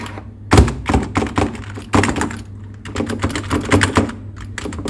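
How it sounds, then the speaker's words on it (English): Typing on the keyboard of an Asus TUF A15 laptop, a brisk run of clicky keystrokes with louder thunks and short pauses, close and clear over a low steady hum. "And the keyboard sounds bad."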